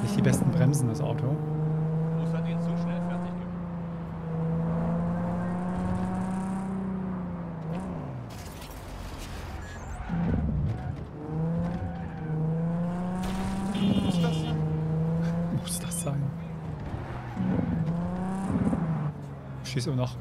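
Car driven in the video game Cyberpunk 2077, an engine hum with rising and falling pitch as it accelerates and slows, running steadily with occasional whooshes, under someone talking throughout.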